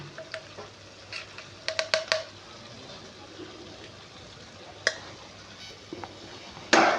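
A spoon stirs spice powders and ginger-garlic paste in a pan: scattered clicks and scrapes over a faint low sizzle, with a louder clatter near the end.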